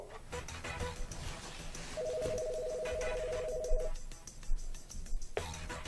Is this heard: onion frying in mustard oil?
no